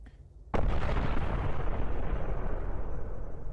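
A sudden sharp blast from an explosion sound effect gives way to a long, loud rumbling roar that fades slowly over several seconds, with a quiet lead-in before it.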